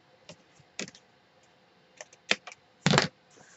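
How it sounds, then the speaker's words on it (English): Paper overhang being trimmed off a mini album page: a handful of short, close snips and clicks, the last one a longer crisp cut, with no talking. "So now this overhang here, I'm going to go ahead and cut it off."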